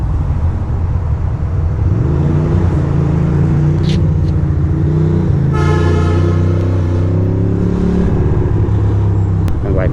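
Heavy New York City street traffic in DUMBO, with loud idling engines close by and a long car horn blast in the middle among shorter toots, a dense steady rumble throughout.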